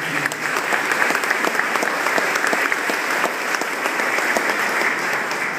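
Audience applause at an outdoor Memorial Day ceremony, a dense, even patter of many hands clapping continuously for several seconds, with no speech over it.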